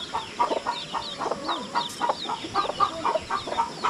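Free-ranging chickens kept the traditional way, loose with their mother hen, cluck in short repeated bursts close by, with a faint crowing note mixed into the steady scratchy chatter.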